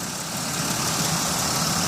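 A 2007 Chevy Uplander wheelchair van's V6 engine idling under the open hood, 254k miles on it: a steady, smooth, even rumble with a broad hiss, close and moderately loud, no squeaks or belt chirps.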